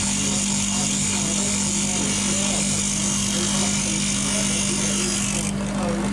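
Bench grinder whining steadily while a fingernail woodturning gouge is sharpened against the wheel, a loud, continuous hum with grinding hiss close up, the tone shifting slightly near the end.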